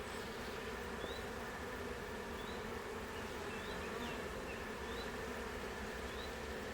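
A honeybee colony drones steadily while a beekeeper places a drawn comb frame near the middle of the hive, a constant close buzz with faint chirps above it and no voices.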